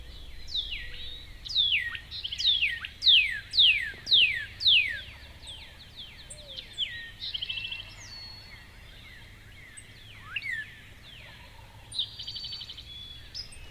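Birds call outdoors in thick cover, a run of rapid high descending chirps repeating about every half second, loudest early then thinning into scattered calls, fairly near over a low rumbling background with no talk.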